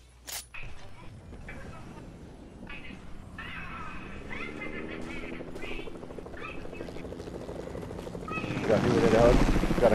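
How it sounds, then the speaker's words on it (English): Helicopter in a video game, a steady rotor drone building louder toward the end, with people talking over it throughout. "Got a helicopter near us?"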